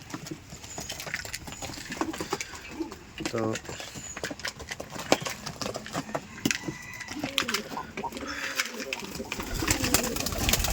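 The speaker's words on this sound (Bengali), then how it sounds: "তো এটা হচ্ছে বাচ্চা কবুতর" Rajshahi Giribaj pigeons coo in low, rolling bursts amid pattering feet and wing flutters in a loft, with a person's voice audible nearby.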